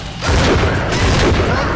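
A grenade blast in the video game Bioshock 2, a loud sudden boom that swells into a dense rumbling roar and holds for over a second.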